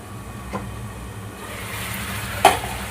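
Potatoes sautéing in a pan with a little water for a vegetarian papaya-potato dish: a steady soft sizzle with occasional spatula scrapes, one sharper clank near the end.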